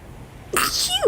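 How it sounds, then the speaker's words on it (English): A single sharp human sneeze bursts out loudly about halfway through after near silence, with a short trailing breathy tail. "I'm gonna sneeze."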